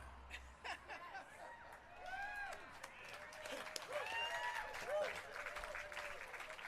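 An audience claps at Sammy Hagar's Walk of Fame ceremony, a modest, somewhat distant patter of applause mixed with chuckles and scattered voices, rising slightly midway.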